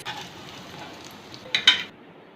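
Beef shami kababs fry in oil in a pan, a soft steady sizzle near the pan with a couple of sharp metallic scrapes toward the end, then a sudden cut to quiet.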